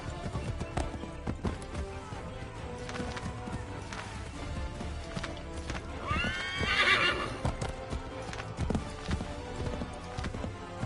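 A horse in Assassin's Creed III clip-clops steadily and close, then gives a loud, rising whinny midway as the hoofbeats continue, with busy game ambience behind.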